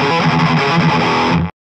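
High-gain electric guitar playing a chugging palm-muted metal riff with light picking, a dense distorted tone with fairly steady rhythmic attacks for about a second and a half before cutting off abruptly.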